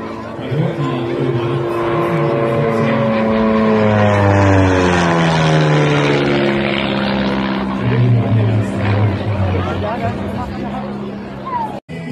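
A One Design Dr.1 aerobatic propeller plane's engine roars and shifts pitch as it passes overhead at an air show, loud and sweeping, with crowd chatter faintly underneath.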